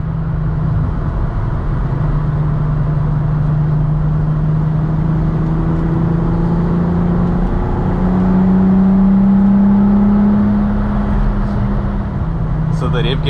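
A modified 12-valve VR6 six-cylinder engine swapped into a Mk2 Volkswagen GTI, with cams and short gear ratios, hums steadily, then climbs in pitch as it accelerates, the drone rising and falling in a continuous close-up whir.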